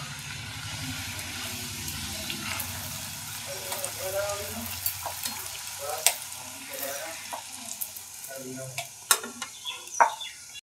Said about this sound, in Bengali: দেখুন লুচিগুলো সব কটাই কিন্তু ফুলছে ভালো